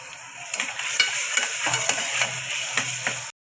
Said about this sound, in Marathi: टमाटर मस्त आपलं फ्राय झालेलं आहे चांगलं